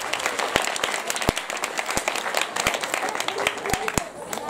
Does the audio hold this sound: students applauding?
yes